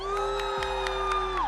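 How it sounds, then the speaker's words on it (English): A crowd at the Valorant grand finals of the Predator League Malaysia Qualifier 2026 cheers and whoops loudly and steadily for team Davai, a sustained wall of voices with sharp shouts cutting through at intervals. "Can I hear the cheer for the team Davai?"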